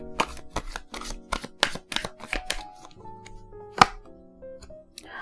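Angel answer cards are shuffled with a run of crisp riffling slaps, then drawn and laid down with softer slides and a sharp snap, close and clear with no talking.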